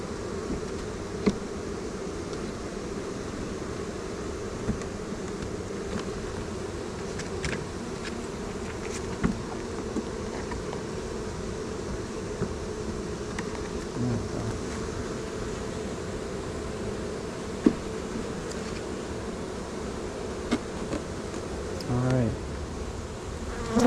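A steady swarm of honeybees hums continuously around a package being installed into a hive, a dense, close drone with brief sharper passes of individual bees and small knocks of handling.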